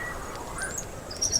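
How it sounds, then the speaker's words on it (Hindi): Faint, high bird chirps and short tweets over a soft background hiss, a few brief calls toward the end. "ये तो कोई प्रवासी पक्षी है"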